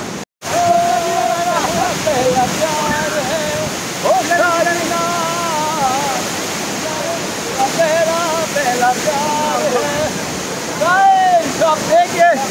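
Fast-flowing river water rushes near a waterfall in Munnar, a steady loud broadband roar that runs the whole time, with someone talking excitedly over it.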